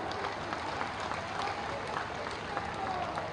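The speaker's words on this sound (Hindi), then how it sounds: "सबसे बुजुर्ग नेता के लिए ताली बजा दीजिए" Crowd at a Bihar election rally claps in a sustained, moderately loud round of applause, steady throughout with a few voices mixed in.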